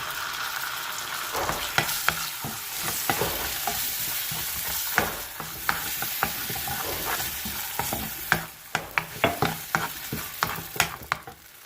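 Tomato paste sizzles as it fries in a pan for a homemade chicken pizza sauce, a steady crackling hiss broken by repeated sharp clicks and scrapes of stirring, growing busier toward the end.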